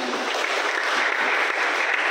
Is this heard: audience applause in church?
yes